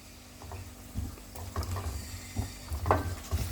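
Chicken stir-fried in thick masala for matar chicken salan in a home kitchen, with soft sizzling and scraping stirs against the pan, faint and uneven, with clustered spoon knocks and no talk.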